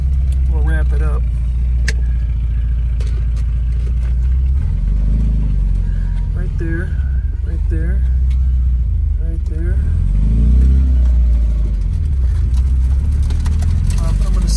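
A 1971 Volvo 144 S engine runs at a steady idle and gently rises in revs as the clutch is engaged, its low, continuous rumble close and even, with someone talking over it throughout.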